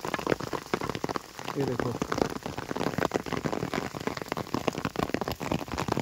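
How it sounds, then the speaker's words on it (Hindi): Hail rattling onto an umbrella in the Rudranath jungle: a dense, steady patter of close, hard little impacts that runs throughout, with someone speaking briefly over it. "और देखो ओले पड़ने लग गए"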